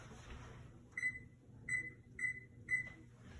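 Kitchen oven timer being set, giving four short electronic beeps at uneven intervals over a low steady background hum, fairly quiet and close.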